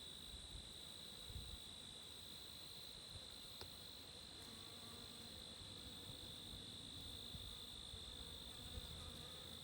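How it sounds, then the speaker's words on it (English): Several honeybees buzz softly while working goldenrod flowers outdoors, a faint steady insect drone with a thin high whine running through the whole stretch and no talking. "Honeybees. All working the goldenrod."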